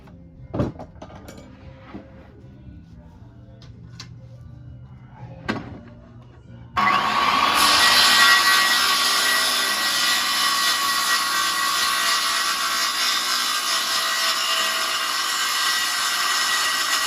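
A power saw cuts wood for a homemade trap, starting abruptly after a few quiet knocks and handling sounds and then running as a loud, steady, high-pitched whine to the end.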